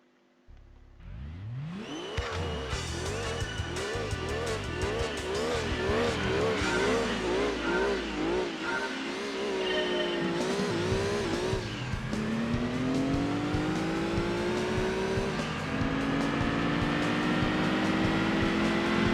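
A racing car with a modified boxer engine in Gran Turismo 2 on a speedway track, its engine note climbing through repeated gear changes from a standing start, then holding a loud sustained high-revving whine with occasional tire squeal.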